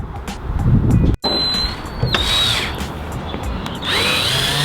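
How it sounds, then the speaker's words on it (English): A power drill whines loudly and steadily, cutting out briefly and then spinning up again, with the motor pitch shifting as it bores holes to mount a wing on a Nissan 350Z. "So right now what we're just gonna do is drill the holes now."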